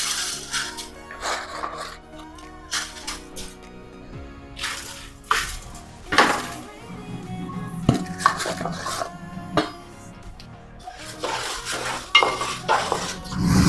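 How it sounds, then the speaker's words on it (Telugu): Washed rice tipped into a hot kadai for dry-roasting, with repeated clattering of metal utensil against pan and scattered scraping and stirring, loud and close, no talk. "ఇప్పుడు కడిగి పెట్టుకునే రైస్ని కళాయిలో వేసుకుందాం"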